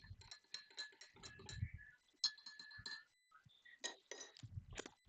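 Light clinks and taps of a utensil against a dish as enchiladas are stirred, a series of short metallic ticks with some scraping, close by and alone.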